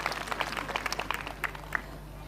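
A church congregation claps in scattered, moderately faint bursts of hand claps, uneven in rhythm and thinning out toward the end, over a steady low hum in a large room.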